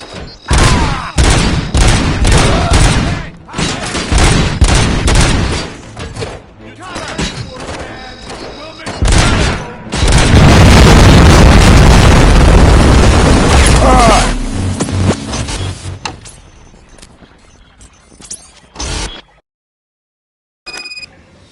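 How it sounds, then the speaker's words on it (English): Bombs detonating in the Robocop Rogue City video game: repeated loud booms and gunfire-like bursts, then a long rumbling blast that fades into quiet, with character voices mixed in. "Just keep planting those bombs."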